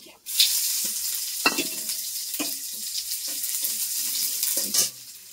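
Garlic cloves hit hot oil with mustard seeds for a chutney, giving a loud, sustained sizzle and spatter close by, with sharp popping crackles scattered through and a few utensil clinks.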